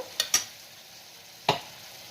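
A couple of quick clanks of a utensil against a pan of ground spice paste for chicken, then another a moment later, over a faint low sizzle.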